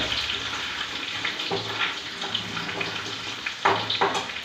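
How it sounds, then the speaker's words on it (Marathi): Food frying in a pan of hot oil until golden gives a steady, loud sizzle and crackle, with a few sharper bursts of spitting oil. "आपण हे आता फ्राय करून घेणार आहे गोल्डन कलर येईपर्यंत"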